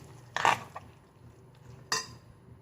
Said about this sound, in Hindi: इस चम्मच से मिक्स